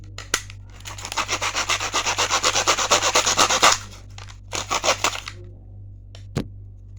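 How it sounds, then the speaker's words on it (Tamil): A saw cuts a handle piece for a homemade bow from home materials, with a fast run of about twenty rhythmic strokes, then a short second burst and a sharp knock, close and clear. "நான் கட் பண்ணிக்கிறேன்."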